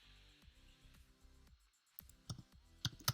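Computer mouse button double-clicked while editing text, heard as a few sharp, close clicks in quick pairs, faint at first and louder toward the end.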